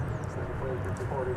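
An airplane taxis across a runway at DFW Airport, giving a continuous distant engine rumble and whine that mixes with a person talking.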